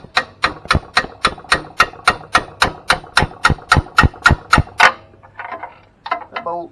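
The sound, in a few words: hammer tapping a tight bolt on a truck engine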